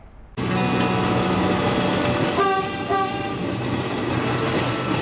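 Metro train in Kanpur running with a loud, steady rumble of wheels on track, starting abruptly after a brief quiet moment, with a tonal horn-like sounding partway through; no voices.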